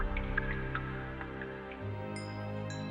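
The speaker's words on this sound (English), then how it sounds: "Oh, you can hear dripping water." Water drips in a cavern on Mars in a game, with irregular plinks echoing over a steady low ambient drone.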